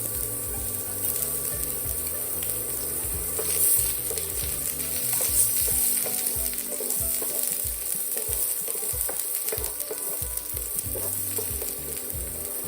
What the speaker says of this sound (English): So sa same pan, we're just gonna saute some onion.